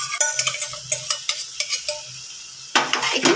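Ground poppy seed and cashew paste added to cooked prawns in a pan, a run of close metal spoon scrapes and clinks against the pan, then a louder burst of stirring and sizzle, no voices.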